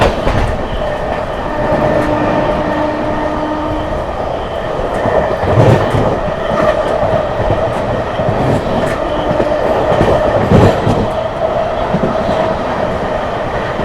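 The 22539 Mau - Anand Vihar Terminal Superfast Express runs at speed, a loud steady rumble of wheels on rails with rhythmic clatter and occasional thumps, heard from on board with no voices.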